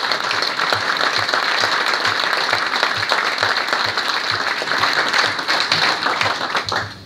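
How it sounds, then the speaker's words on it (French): Dense, loud audience applause fills a speech at the inauguration of a digital campus, steady clapping from a large crowd lasting the whole stretch before tapering slightly at the end. "merci de vos applaudissements pour eux"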